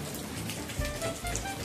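Light rain falling outdoors makes a brief, steady, even hiss of drops on surfaces, with a couple of slightly louder taps.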